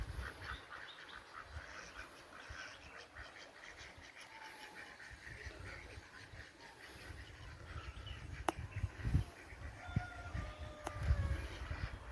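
Ducks quacking outdoors on water in Munnar amid steady ambient noise, with a few sharper calls standing out toward the end.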